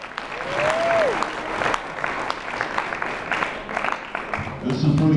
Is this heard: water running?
no